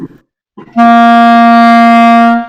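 A single sustained clarinet note, a C, steady and clear for about two seconds, preceded by a brief breathy sound, then fading out.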